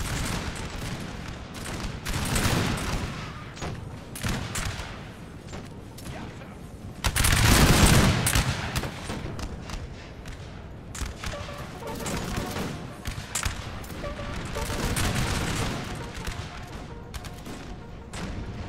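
Musket volley fire in a Napoleonic Total War multiplayer battle, dense crackling gunfire rippling continuously with a loud burst near the middle, layered over battlefield din and occasional voices.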